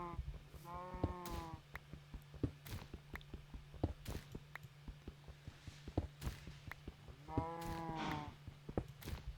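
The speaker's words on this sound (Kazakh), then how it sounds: "Или мына сиырлардың дауысы ма?" Two drawn-out cow moos from Minecraft, one early and one near the end, over a steady low hum with scattered clicks and block-breaking taps, in a Kazakh-language horror map.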